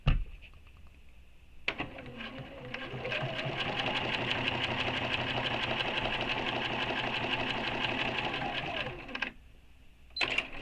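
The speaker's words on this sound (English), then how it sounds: "here we now have 2 perfectly straight lines of stitching" A BERNINA sewing machine runs steadily for several seconds topstitching straight lines, a fast even mechanical whir with clear needle rhythm, starting and stopping with brief handling clicks at either end.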